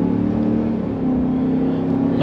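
A 2022 Ram 2500 HD Power Wagon 4x4 with a 6.4L Hemi V8 accelerates, a loud steady engine drone with a low rumble, close and continuous.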